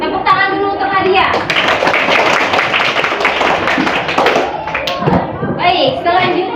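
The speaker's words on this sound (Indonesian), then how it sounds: "Tepuk tangan dulu untuk Nadia." A classroom of children applauds for a classmate, the clapping loud and sustained, with children's voices mixing in and an adult voice speaking briefly at the start and end.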